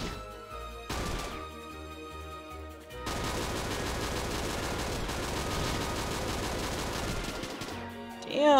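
Gunfire from a video game gun comes as rapid, dense bursts of shots over a busy game background, with a quieter stretch early on and a louder swell at the end.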